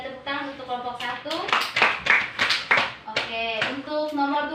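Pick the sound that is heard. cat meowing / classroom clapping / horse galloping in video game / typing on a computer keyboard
classroom clapping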